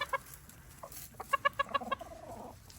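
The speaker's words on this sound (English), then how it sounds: "Look at all those chickens." Backyard flock of hens with a rooster clucking nearby, a burst of quick rhythmic clucks amid scattered softer calls, fairly quiet and alone without talk.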